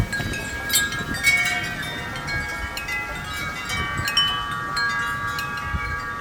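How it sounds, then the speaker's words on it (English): Steady wind rushes and buffets across the microphone outdoors on a warm night before storms, with a constant high hum and faint clinks in the background; no talking. "it is so windy out here tonight"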